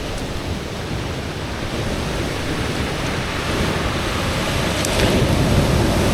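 Ocean surf breaks along a shoreline, a steady broadband wash of waves that swells slightly louder near the end, with wind across the microphone and no voices.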